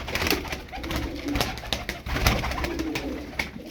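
Pigeons coo steadily in a low, throaty murmur, several birds overlapping against a busy background of rustling and faint activity.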